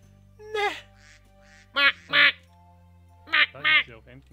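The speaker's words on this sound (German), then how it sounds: "Ja, hier ist eine kleine Ente." Ducks in the Minecraft video game quack in three bursts, a single quack and then two paired quacks, clear and close over a steady low game hum, with no talk.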